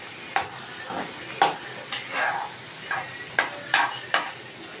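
Vegetables for mushroom Maggi frying in a pan, stirred in several separate scraping strokes over a steady low sizzle, moderately close.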